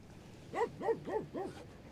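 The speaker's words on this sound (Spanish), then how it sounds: "Ahí está el perro." A dog gives four quick whimpering yips in a steady rhythm while playing, moderately near over a quiet background hiss.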